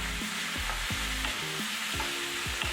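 Chopped tomatoes are stirred into browning onions in a hot kadai, giving a constant loud sizzle with repeated scraping strokes of a spoon in an uneven rhythm, close up and without speech.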